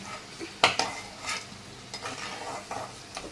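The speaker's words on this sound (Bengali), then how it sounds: "এই দেখো এখন আলু ভাজাগুলোকে তুলে দিচ্ছি" Fried potato pieces are lifted out of a hot pan, with a few sharp metal scrapes and clinks of the spoon over a soft, faint sizzle of oil.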